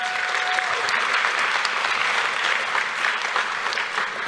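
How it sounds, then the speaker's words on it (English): A crowd at a youth achievement awards ceremony gives students a warm, steady round of applause, with dense continuous clapping and no break throughout. "Let's give them a round of applause."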